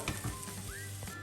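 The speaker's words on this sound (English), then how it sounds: "I'm going to add it into the pan. I'm going to give this just a minute or two again to actually melt down" Cheese melting and frying in a pan during breakfast meal prep gives a faint, steady sizzle with light crackling, close and continuous, without speech.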